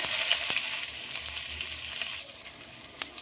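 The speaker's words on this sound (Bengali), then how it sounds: "পেঁয়াজ কুচি দিয়ে দেবো" Chopped onions fry in oil in a kadai for an egg poach curry, giving a steady broadband sizzle with a few faint clicks, no voices.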